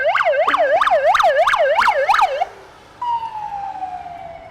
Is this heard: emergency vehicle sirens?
yes